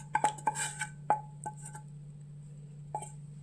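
A spoon stirring cooled rose petals into yogurt in a bowl, a handful of light, clear clinks against the dish, clustered early, then a lone tap after a quiet gap.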